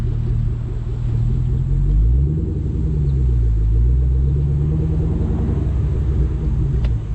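A mildly modified 450 hp fifth-generation Camaro SS V8 with manual transmission rumbles steadily at cruising speed, top down, its low throb rising and falling slightly, loud and close with no voices.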